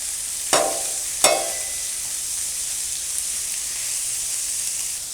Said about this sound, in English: And we're going to put the steak on.